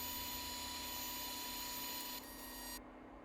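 Orbital sander working 180 grit across a surfboard tail crease ding repair, a steady close motor whine and sanding hiss that drops in level twice near the end.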